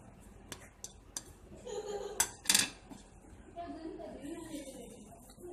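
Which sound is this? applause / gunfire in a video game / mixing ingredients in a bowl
mixing ingredients in a bowl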